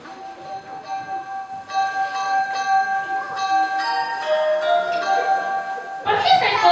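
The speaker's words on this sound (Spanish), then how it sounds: "¿Y por qué suenan las campanas?" Bells ringing in layered tolls with bright lingering tones, building in density and growing louder toward the end, heard without talk.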